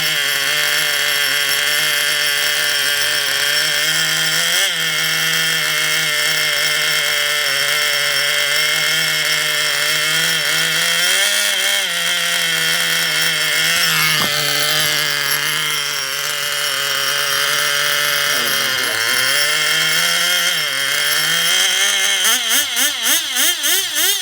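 Old chainsaw that has sat on a shelf for months, its engine running hard and loud in a sustained buzzing whine that rises and dips with revs, then sputters near the end as it runs out of fuel.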